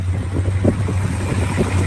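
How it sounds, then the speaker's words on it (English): A muscle car with headers idles steadily, a low, smooth, even rumble heard alone at moderate volume with a faint breezy hiss over it. "there you can hear the engine, sounds good"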